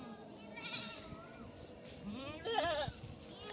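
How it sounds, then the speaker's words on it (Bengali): Faint goat bleats rise and wobble over a quiet outdoor livestock market background, with one clearer bleat near the end. "তিনটা ছাগল দেখতে পাচ্ছি"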